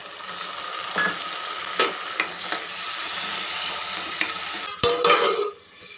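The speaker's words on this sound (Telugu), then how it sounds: "ఇప్పుడండి ఉల్లిపాయలు వేగిపోతున్నాయి కదా ఇప్పుడు టమాటాలు తీసుకుందాము టమాటాలు కూడా మెత్తగా వేగనిద్దాం" Onions and tomatoes frying in a pan, steady close sizzling with several sharp stirring clinks and scrapes, ending in a louder burst before the sizzle drops away.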